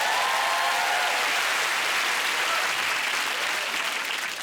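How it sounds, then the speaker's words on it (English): Studio audience at a British TV comedy news show bursts into sustained, dense applause that holds steady and loud throughout, with no talking over it. "That's worth a round of applause"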